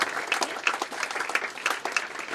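An audience claps for camp helpers at an Easter camping service, a dense steady wash of applause with scattered louder individual claps throughout.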